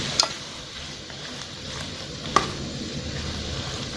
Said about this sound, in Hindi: अब हम इसको मक्खन और सब्ज़ मिर्च के साथ फ्राई कर लेते हैं।